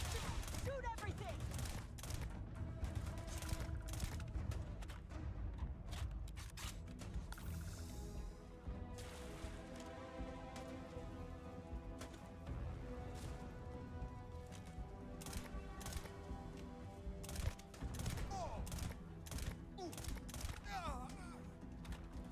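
Rapid gunfire bursts from combat in the video game Starfield, crackling repeatedly over a dense layer of game music and effects, with a voice talking now and then.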